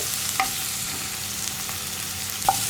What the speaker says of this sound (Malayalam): ഈ ഉപ്പും കൂടി ചേർത്തിട്ട് നന്നായിട്ടൊന്ന് സവോള വഴറ്റിയെടുക്കുക